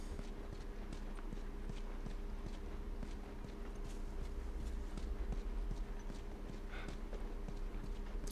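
Horse hooves clip-clop in a steady walking rhythm, soft and moderately close, in the PS3 game The Last of Us, with a low ambient hum underneath and no talking.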